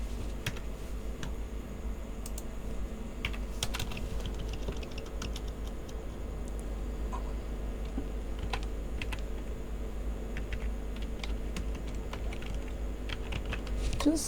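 Someone types HTML code on a computer keyboard, producing a steady patter of soft key clicks over a low room hum.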